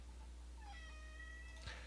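A cat cries out with a single drawn-out, wavering meow, faint and somewhat distant over a steady low hum, with a brief knock near the end.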